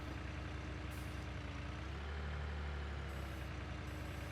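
Small tractor in Farming Simulator 19 fitted with oversized forks: a steady, low diesel engine drone running evenly, with a brief rise in revs partway through and faint hissing above it.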